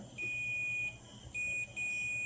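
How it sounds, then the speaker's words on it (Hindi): A continuity tester gives a steady high electronic beep as its probes touch a transformer's winding tappings, sounding in three bursts with brief gaps between them. "जब हम कनेक्ट करते हैं इसके ऊपर आ रहा है बीप"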